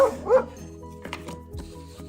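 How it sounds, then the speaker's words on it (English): A dog gives a couple of short yipping barks near the start, followed by faint whimpering sounds in a quiet background. "D is for dog."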